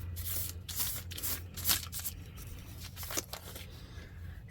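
Sheets of paper are shuffled and handled close by, crinkling rustles and soft slaps as a drop sheet is slid underneath for painting, quiet and uneven without speech.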